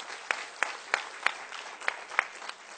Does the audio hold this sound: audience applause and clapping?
yes